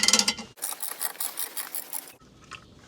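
A Tesla car jack lowering after its latch is flipped gives a loud burst of rapid ratcheting clicks, then a sustained whirring clatter of gears that cuts off into quieter scattered clicks.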